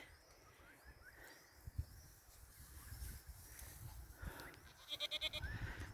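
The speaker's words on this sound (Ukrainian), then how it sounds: "О, коза дереза." Faint outdoor ambience with a goat bleating a few times, quiet calls at a distance amid soft rustling and bird chirps.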